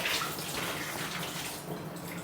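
Tap water runs in a steady close rush while dishes are scrubbed in a home kitchen, a continuous splashing flow with no talk over it.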